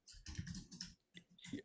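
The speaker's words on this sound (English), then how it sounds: "you type really loud, it's like you're hurting the keyboard" Loud, fast typing on a computer keyboard during an online workshop, with dense bursts of clattering keystrokes, a short pause, then another flurry of heavy key presses, close to the microphone.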